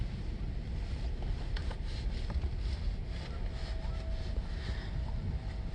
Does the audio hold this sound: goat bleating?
no